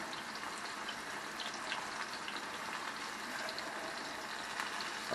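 Coated flounder fillets deep frying in hot oil give a steady, dense sizzle and crackle that holds even and close throughout.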